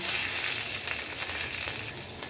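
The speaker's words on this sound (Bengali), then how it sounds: "এই যে এখন তেল গরম হয়ে গেছে, দিয়ে দিব কালো জিরে, দিব কাঁচা লঙ্কা।" Nigella seeds and green chilies drop into hot oil and sizzle at close range. The sharp, bright hiss spikes and eases a little, with no one speaking.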